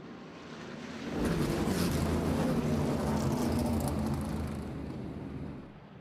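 Open modified race cars run a heat race at Midvale Speedway's fall event, their engines a broad, steady roar that swells after a second, holds, then slowly fades at a distance.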